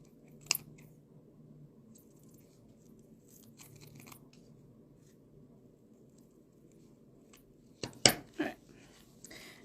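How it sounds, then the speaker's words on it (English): Scissors snip off excess sticky cork while a macrame cork coaster is being made: a faint early snip, then a brief cluster of crisp cuts near the end over a quiet room. "cut that extra cork off"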